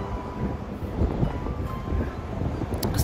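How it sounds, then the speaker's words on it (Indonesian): Strong wind gusts outdoors on a cold late afternoon, a steady broadband rush with low rumbling buffeting against the microphone, continuous and close, with no voices. "kok anginnya kencang ya"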